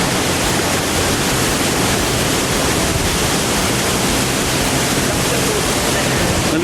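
Boutique Falls near Olongapo pours as a steady, dense rush of falling water, loud and close, with an unbroken roar filling the whole clip.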